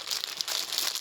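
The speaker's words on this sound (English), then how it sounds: "I know folks don't like the crinkling, but I apologize ahead of time" Packaging crinkles and rustles in quick, close bursts as it is handled during an unboxing, fairly quiet with no talking.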